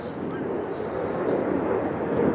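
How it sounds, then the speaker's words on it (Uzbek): Airplane landing near an airport in the Netherlands, a low, broad jet roar slowly building in loudness, heard from a distance under a voice. "Yana samolyot qo'nyapti-da."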